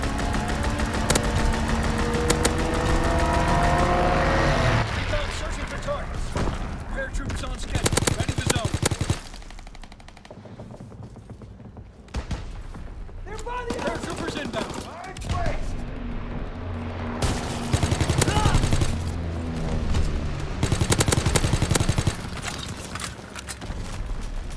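Strafing run gunfire in Call of Duty: WWII, with dense loud bursts of rapid automatic fire and clattering mechanical noise, a quieter lull midway, then more heavy firing.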